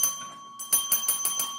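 Bell rings in a quick series of bright metallic dings, about six close, clear strikes in rapid rhythm, heard alone.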